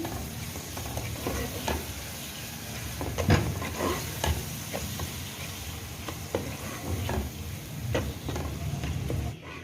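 Finely chopped tomatoes fry in masala for egg keema, a constant close sizzle broken by repeated scraping and clacking strokes of a spoon stirring against the pan.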